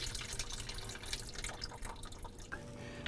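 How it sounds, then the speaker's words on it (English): Water drains out of an under-counter ice maker after the drain cap is removed, a continuous close trickle with dripping and splashing patters at a moderate level and no talk. "remove this drain cap for the water and wait for it all to completely drain out"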